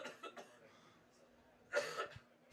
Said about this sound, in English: Caused me to start laughing and coughing